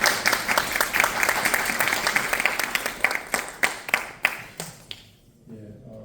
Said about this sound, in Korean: 큰 박수로 맞이해 주시면 됩니다